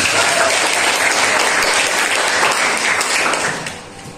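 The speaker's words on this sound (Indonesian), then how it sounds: "Kita beri tepuk tangan untuk Qurannya." A classroom of students claps together during an Islamic religious education lesson, a loud, dense, steady burst of many hands that holds for about three and a half seconds before tapering off.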